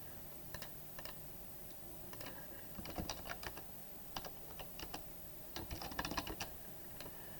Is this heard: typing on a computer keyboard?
yes